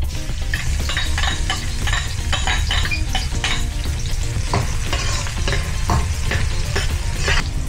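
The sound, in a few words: garlic browning in hot oil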